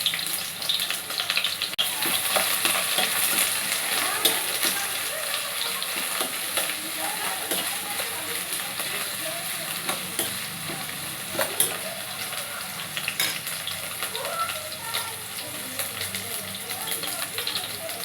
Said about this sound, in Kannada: ಇವಾಗ ಎಣ್ಣೆ ಕಾದಿದೆ. ಇದಕ್ಕೆ ನಾವು ಸ್ವಲ್ಪ ಹೆಚ್ಚಿರುವಂಥ ಹಸಿ ಈರುಳ್ಳಿನ ಹಾಕೋತಾ ಇದ್ದೀನಿ.